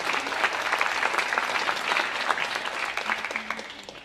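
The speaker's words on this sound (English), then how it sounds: "Round of applause." Sustained applause from an audience at a 2016 academic awards ceremony, a dense steady patter of many hands clapping at moderate volume with a faint background voice.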